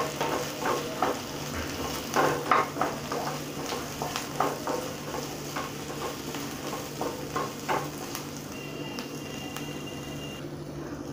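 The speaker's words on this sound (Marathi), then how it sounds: "2 मिरच्या कट करून घेतल्यात त्या टाकायच्या, कांदा टाकायचे, चांगलं फ्राय करून घ्यायचे।" Chopped green chillies and onion frying in a pan, a dense steady sizzle with a busy run of rhythmic stirring scrapes that thin out toward the end, close by and without talking.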